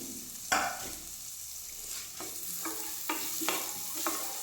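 Onion frying in a pan for pumpkin soup: a quiet background sizzle broken by several sharp scraping stirs of a spatula, heard up close with no talking.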